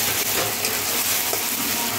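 Onion frying in a pan after ginger, garlic and green chili paste goes in, giving a dense, even sizzle close by that runs without a break and has no talk over it.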